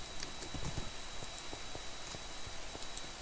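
A horse gallops in the video game Warlords, its rapid hoofbeats clip-clopping in a steady patter at moderate volume, with no talking.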